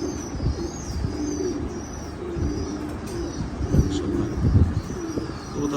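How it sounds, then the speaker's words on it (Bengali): Low, rounded pigeon coos recur through a fancy-pigeon farm, several birds overlapping near and far over steady aviary background noise, with faint chirps in the mix and no voices. "খুব সুন্দর একটা কবুতর"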